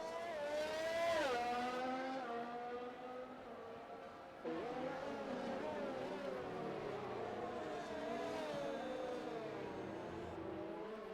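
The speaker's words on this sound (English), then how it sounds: "Just enjoying listening to the cars rage around the track." Race cars in a CRL T2 Series race in Italy scream past one after another, high-pitched engines rising and falling as they sweep by, with a brief dip in between.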